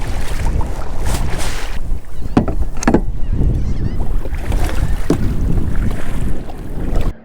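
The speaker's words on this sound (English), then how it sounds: "The wind's picking up a little more." Strong wind buffets the microphone while fishing from a kayak on foggy spring water, a loud continuous low roar with a few sharp knocks and splashes, no talking.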